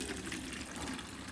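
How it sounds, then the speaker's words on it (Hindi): Water is poured into a container for cleaning, heard as a brief, steady, faint splashing gush. "मैं इतना पानी ले रही हूँ"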